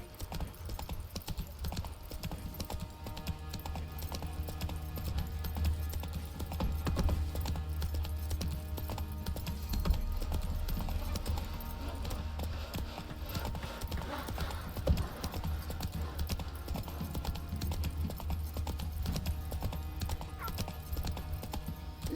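Roach the horse gallops in Witcher 3, a steady clip-clop of hooves running continuously under game ambience and music, with an occasional whinny.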